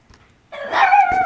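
A dog gives a single sharp, close bark after a near-silent start, then a whining, yelping tail-off.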